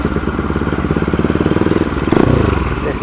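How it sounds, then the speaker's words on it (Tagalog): Motorcycle exhaust running open without a silencer, a loud, rapid, throbbing idle with crackling pulses that swell briefly near the end, very close to the pipe. "ngayon ay testingin natin yung tambucha ko. So naka-open siya ngayon,"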